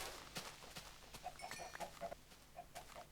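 Chickens cluck in the Minecraft video game, short faint clucks repeating in loose clusters over a quiet background.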